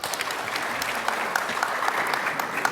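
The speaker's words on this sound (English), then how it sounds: "we've never had this much applause at a school board meeting" Many people clap steadily at a school board meeting, a full, dense patter of applause that holds at an even level throughout, with individual claps popping out and no clear speech.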